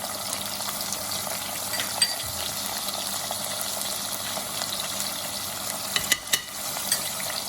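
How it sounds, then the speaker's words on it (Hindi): An onion and tomato mixture frying in a pan for an aloo salan makes a continuous sizzle with occasional stirring scrapes and small clatters, steady and close. "तो सबसे पहले हम प्याज डालेंगे इसके अंदर, प्याज और टमाटर का मिक्सचर"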